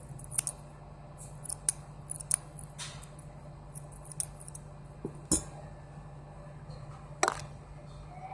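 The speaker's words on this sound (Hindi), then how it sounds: "इस तरह से हम एक्स्ट्रा ऊन चारों तरफ से काट देंगे" Scissors snip excess wool yarn away around a small crocheted jasmine flower, a series of sharp close clicks spaced irregularly over a quiet background, one louder snip near the middle.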